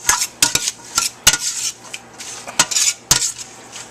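A spoon mixes meatball mixture in a bowl, knocking against the sides in loud, close, irregular clinks and scrapes, with short bursts of mixing between the taps. No one talks.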